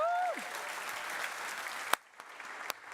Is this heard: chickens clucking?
no